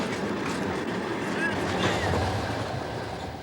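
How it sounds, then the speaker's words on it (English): Train in Russia heard as steady broadband rumble and rolling noise with a faint brief squeal, continuous through the short stretch, with no one speaking. "better get on the train"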